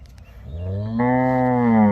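A cow on a dairy farm lets out one loud, close, drawn-out moo that starts low and swells into a strong sustained bellow, with no talking.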